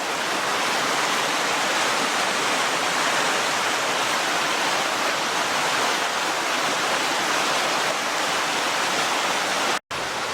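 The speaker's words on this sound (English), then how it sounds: "I would cross the creek here normally, but it's pretty rough right now." Rough, rushing creek water roars steadily and close by, a dense unbroken hiss of turbulent flow with no voices, briefly cutting out near the end.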